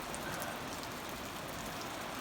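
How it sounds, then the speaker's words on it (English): Light summer rain falls steadily on a hot evening, a constant soft hiss of drops on surfaces with no talking. "it is raining, even if just a little bit."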